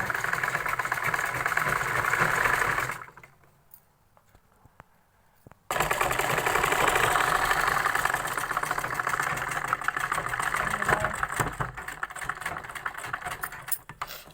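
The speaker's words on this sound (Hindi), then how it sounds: "इसमें लॉक करके सिलाई एक और मार देंगे, लगा देंगे।" A sewing machine stitching a cloth belt for a salwar: a steady mechanical motor whir runs for a few seconds, stops briefly, then resumes with a continuous rattling hum to the end.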